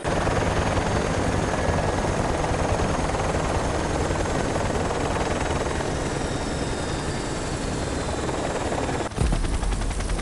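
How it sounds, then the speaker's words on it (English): A helicopter in the video game Project IGI at a military airbase drones with a steady, loud rotor roar that fills the whole stretch, then cuts out abruptly near the end before briefly resuming. "Where's the helicopter going?"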